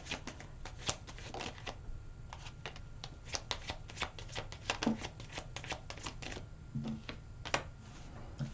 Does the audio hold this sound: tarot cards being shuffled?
yes